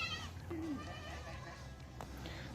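Goats bleat on a goat farm in Pakistan, a single short wavering call over a busy background of farm noise, with a faint voice in the distance.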